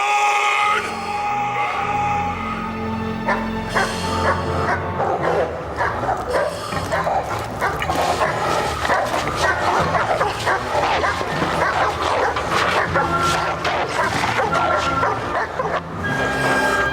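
Several dogs out on a hill bark and yip excitedly in rapid overlapping bursts that continue throughout, fairly loud and close, with some whimpering mixed in.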